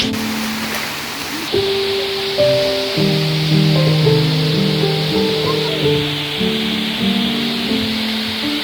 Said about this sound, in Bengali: কি সুন্দর ঝর্ণা দেখুন ভয়ঙ্কর সুন্দর ঝর্ণার রূপ